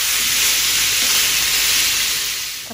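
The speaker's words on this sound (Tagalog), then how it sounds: "Kaya igisa natin ito mabuti para mabango at lalong sumarap at malasa." Beef sautéing with plenty of ginger and onion in a hot pan, a loud, steady, close sizzle that holds throughout and eases slightly at the end.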